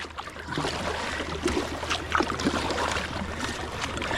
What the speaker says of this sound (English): this is a little harder to paddle upstream than I thought it would be